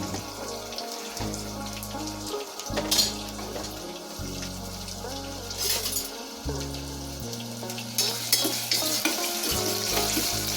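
Onions frying in a pan, a steady sizzle running throughout at close range, with occasional stirring scrapes and clatter on top and a tonal hum beneath; no one speaks.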